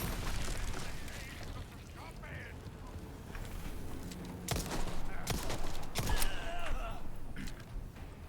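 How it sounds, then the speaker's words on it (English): Grenade explosions in the Resident Evil 4 Remake video game: several sharp, loud blasts burst in quick succession over a busy background of game noise. "Who on earth is throwing these grenades at us?"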